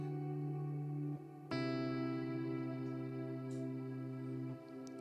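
A guitar reverb frozen into an infinite pad on a Big Sky pedal: a sustained, shimmering chord drone with rich overtones that swells suddenly after a second, holds steady, then thins slightly near the end.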